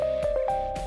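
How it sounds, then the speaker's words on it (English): A short breaking-news chime plays on a sports radio show: a steady electronic tone with a few quick struck accents, lasting under a second. "And then, Marcus, a little breaking news chime."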